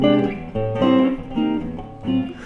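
A warm, rounded electric guitar on its neck pickup alone plays a few short phrases of notes and chords, clean and mellow with smooth sustain, up close.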